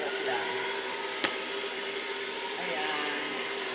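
A newly unboxed Ancient brand hair dryer blower runs steadily close by, giving a constant airy whoosh with a faint hum and one brief click partway through.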